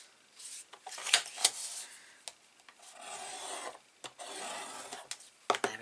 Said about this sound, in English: Burnish that line